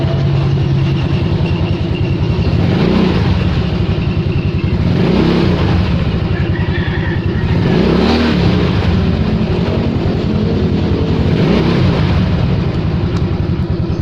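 A Yamaha Mio Sporty scooter engine idles loudly up close and is revved repeatedly, about four rising and falling surges spaced a few seconds apart over a constant throaty hum.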